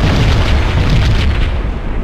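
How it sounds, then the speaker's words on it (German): A deep, rumbling bomb explosion in the video game Max Payne booms and rolls on for about two seconds, loud and dense with low-end roar and crackling debris. "Another bomb exploded inside the closest slum building."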